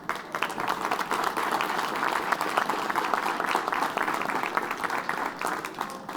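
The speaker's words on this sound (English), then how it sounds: "I hope you heard the applause here for your comments and remarks" Sustained audience applause fills a conference hall after a panel statement at the COP26 climate summit, a dense steady patter of many hands clapping at even loudness throughout, with no voices over it.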